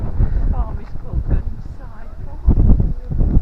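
Steady low wind rumble buffeting an outdoor microphone on a high spot at a farm in Staffordshire, gusting stronger toward the end, with faint voices underneath.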